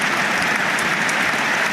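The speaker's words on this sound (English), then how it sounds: "Round of applause for Aden Baldwin" Crowd applause at a Bradford City versus Huddersfield Town football match, a broad, steady wash of clapping from the stands with no break.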